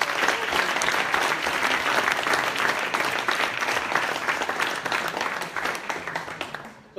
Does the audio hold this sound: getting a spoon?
no